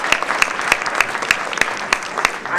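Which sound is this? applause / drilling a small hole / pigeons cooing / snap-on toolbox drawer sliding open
applause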